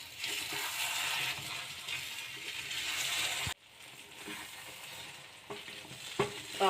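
A sweet potato mixture is stirred slowly in a hot pan, a soft steady sizzle with light scraping strokes, quieter after a pause and ending with a few sharper knocks.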